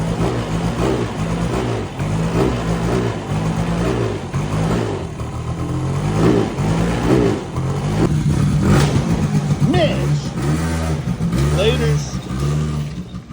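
A small Polaris 90 ATV engine runs steadily at close range, its buzzing drone rising and falling with throttle blips, with people talking over it throughout.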